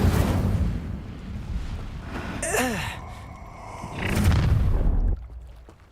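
A fire spell cast in the video game Hogwarts Legacy, a loud whooshing magical burst with descending whistling tones amid rumbling, booming game effects, followed by a second fiery surge before cutting off.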